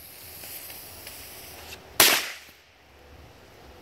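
Gunpowder fireworks catching fire on the ground: a low background hiss, then a single sharp crackling burst that fizzes out over about half a second before things go quiet.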